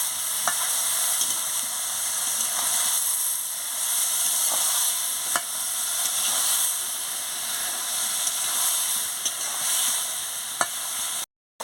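Spinach curry frying with mustard paste in a pan, a continuous close sizzle with intermittent scraping and light clicks of a spoon stirring through it.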